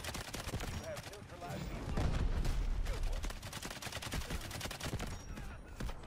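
Rapid bursts of gunfire from the video game Delta Force, with SMG-45 shots mixed into a dense, continuous firefight of overlapping volleys, loud and close throughout.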